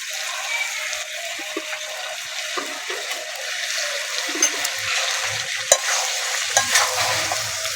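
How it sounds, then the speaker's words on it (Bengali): Chicken gizzard and liver sauté dry in a pan with salt and no water, a loud continuous close sizzle with scattered stirring scrapes and a sharp clack near the end, no voices. "ভালো করে মাংসটা কষিয়ে নেব।"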